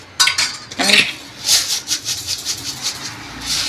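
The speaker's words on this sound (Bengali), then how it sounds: "এবার চিনি দিয়ে আর একটু নেড়ে জাল দেবো ভালো করে দুধটাকে" Sugar being stirred into milk in a pot for custard ice cream, heard as a close sequence of rhythmic metal scrapes and clinks of a spoon against the pot, with a brief voice-like sound near the start.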